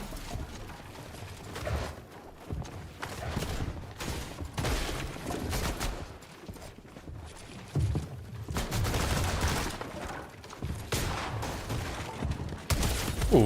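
Rapid bursts of gunfire from the video game Fortnite during a tournament match, volleys of shots coming in clusters and pauses over a busy game soundscape, without speech.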